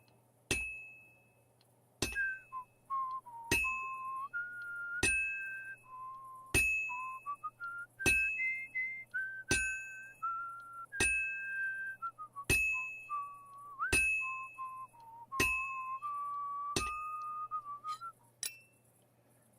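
Blacksmith in the Kingdom Come Deliverance 2 video game whistling a wandering tune while a hammer rings on metal at a steady slow beat, about a dozen bright clanging strikes under the quiet melody.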